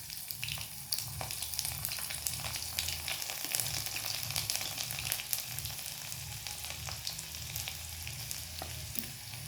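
Crushed, peeled garlic cloves sizzle steadily in hot oil with asafoetida in a home kitchen pan, a continuous close crackling fry with occasional stirring scrapes and no talking.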